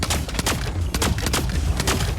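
Repeated gunshots and impacts in a mech combat video game, a steady crackle of loud bursts spaced through the whole short stretch with rumbling low end underneath.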